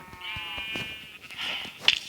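Sheep bleat in repeated drawn-out cries, a few overlapping, with a sharper high bleat near the end; synthetic game-like tone from Minecraft.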